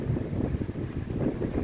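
Wind blowing outdoors near a dead pine tree on a street, a steady low rushing and buffeting with no talk over it.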